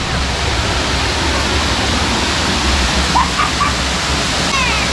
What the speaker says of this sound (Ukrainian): Ось це я водопад вам казав.